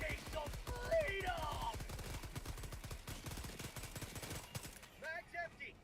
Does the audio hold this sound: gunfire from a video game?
yes